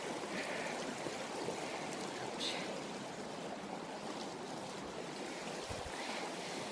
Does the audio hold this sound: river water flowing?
yes